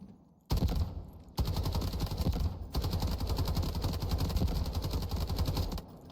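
Custom-built rifle in Delta Force fired at a shooting range, a sudden burst after a brief quiet, then sustained loud rapid automatic fire with a short pause, continuing steadily until it cuts off near the end.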